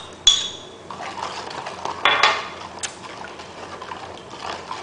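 A spoon stirs soy sauce and hot chili garlic sauce in a bowl for orange chicken, with sharp clinks against the dish and soft liquid swishing, fairly close.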